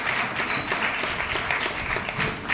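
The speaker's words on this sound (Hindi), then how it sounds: "तालियां बजती रहनी चाहिए।" Steady applause from a crowd at a voter-awareness award ceremony, continuous clapping throughout with no voices standing out.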